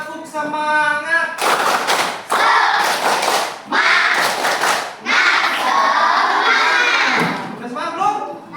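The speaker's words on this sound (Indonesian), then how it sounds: "kita akan mulai dengan tepuk semangat" A classroom of children performs a rhythmic spirit clap, bursts of quick patterned clapping mixed with children's chanting voices and shouts, loud and close, with short pauses between rounds.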